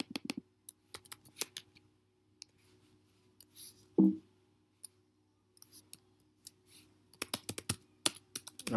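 Someone types a login on a computer keyboard, quick bursts of close, crisp key clicks with short pauses between them in an otherwise quiet room.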